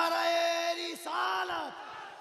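A large gathering at a religious event shouts the Takbir slogan in unison, a loud, sustained collective chant that drops and swells again before trailing off.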